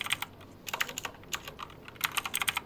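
Typing on a computer keyboard while naming a new folder in Google Drive, heard as bursts of quick, light key clicks with short pauses, close and fairly quiet, no voices.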